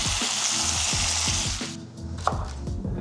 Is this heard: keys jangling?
no